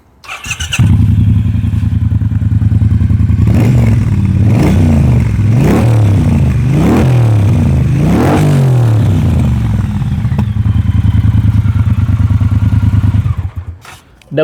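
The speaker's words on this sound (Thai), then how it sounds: "มา ไม้นี้สภาพนี้ขอฟังเสียงเครื่องยนต์หน่อยครับ" Engine of a 2018 Triumph Bobber 1200 motorcycle with low mileage, idling loud and close, then revved in a run of about five sharp throttle blips before settling back to a steady idle and cutting off.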